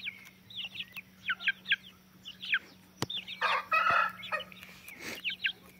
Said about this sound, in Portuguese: Esse galo branco aí, ó,